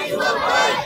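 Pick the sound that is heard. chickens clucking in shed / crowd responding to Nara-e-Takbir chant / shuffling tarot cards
crowd responding to Nara-e-Takbir chant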